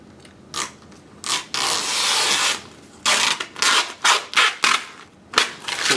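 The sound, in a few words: pulling excess vinyl wrap film off a vehicle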